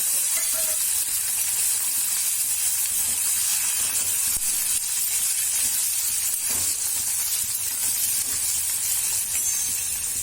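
Gunda sautéing in hot oil with fenugreek and asafoetida, a dense, steady sizzle and frying hiss that stays loud and even throughout, with no voices.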